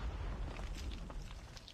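A grenade blast in Call of Duty: Mobile during a world championship match, a short, heavy rumbling boom with crackling debris that fades over under two seconds.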